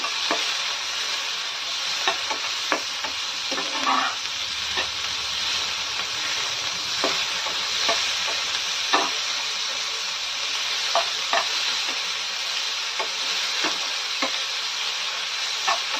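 Onions and tomatoes fry in a pan, giving a steady close sizzle and hiss with frequent light scrapes and taps of a spoon stirring throughout.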